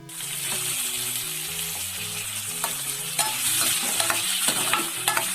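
Green chillies sauté in a pan for a kadachakka (breadfruit) curry, a bright continuous sizzle with occasional stirring clinks, close up while music plays quietly underneath.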